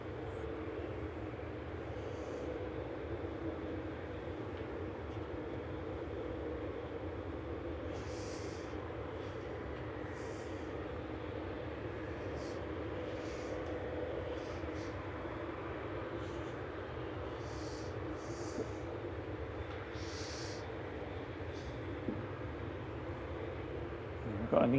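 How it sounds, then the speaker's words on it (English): EasyJet airliner taxiing at Manchester Airport, a steady, distant low engine drone that holds level throughout, with brief high chirps of birds or other sounds scattered over it. "We've got an EasyJet making its way over. It's on the move now."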